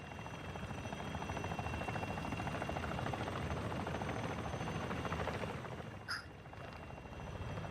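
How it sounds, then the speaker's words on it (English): Enemy attack helicopter in the shooter game DMZ closing in, a steady rotor drone filling the scene at moderate level without pause, with a brief sharp blip near the end. "Be advised, the enemy attack helo is approaching your location."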